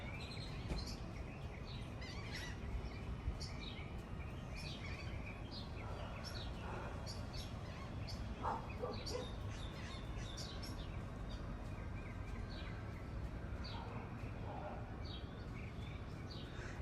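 Wild birds chirp and tweet in a small backyard food garden in Galveston, scattered short calls at moderate distance over a soft steady background hum, with no talking.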